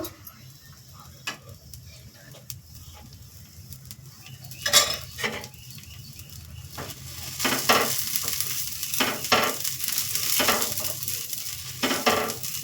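Ragi dosa cooking on a pan as oil is spread over it: a few quiet utensil clinks and scrapes, then a loud, close, continuous sizzle that swells about midway through with spatula clicks on top.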